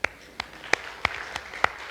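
A church congregation gives a few scattered handclaps: about six sharp, separate claps spread across two seconds, fairly faint against a quiet room.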